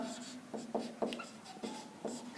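Pen or chalk writing out a maths equation, a series of short scratchy strokes in an irregular rhythm, close and quiet, with no talking.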